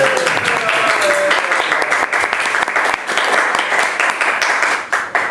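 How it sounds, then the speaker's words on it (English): A crowd at a comedy reunion show gives a full, loud round of applause, dense continuous clapping with a faint voice or tone briefly riding over it early on, then tapering slightly at the end. "Thank you for the sarcastic round of applause,"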